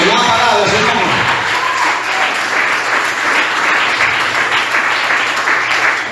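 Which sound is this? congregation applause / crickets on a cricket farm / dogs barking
congregation applause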